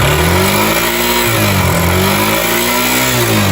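A Yamaha Ténéré motorcycle with an engine noise revs close by, its loud engine tone rising and falling through a couple of throttle blips before holding a higher, steady pitch.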